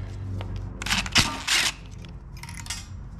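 Screws are backed out of a TransGo valve body during a shift kit install, giving a few short metallic clicks and scrapes of tool and small parts, close up and without speech.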